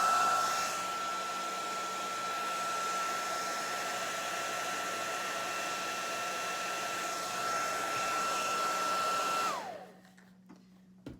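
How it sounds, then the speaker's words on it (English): A hair dryer blows steadily to dry watercolor paint on a holiday ornament card, a loud constant whirring hum with a high whine that cuts off near the end, followed by quiet. "Now I'm just going to go give it a quick blow dry"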